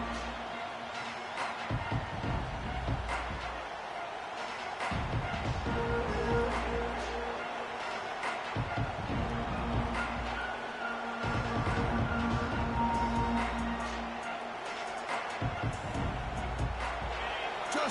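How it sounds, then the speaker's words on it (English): A large home stadium crowd at a college football playoff game between Oregon and LSU roars in a broad, continuous wash of noise, swelling and surging under clattering bursts and intermittent talk. "this home crowd is fired up and ready to make a difference today"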